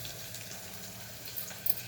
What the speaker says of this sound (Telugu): కడగాలి ఫస్ట్ 3 సార్లు 4 సార్లు కడుక్కోవాలి మంచిగా